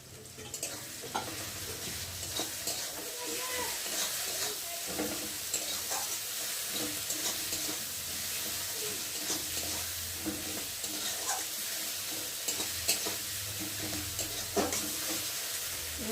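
Spice paste of ground ginger, cumin, garlic and chilli powder frying with tomato in a pan for a thin chicken curry, a steady close sizzle and hiss with occasional stirring scrapes, no voices.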